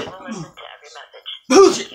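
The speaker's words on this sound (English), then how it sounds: "Sneeze by accident." A single sudden sneeze bursts out loudly near the end, following a stretch of a man's indoor speech at a public meeting.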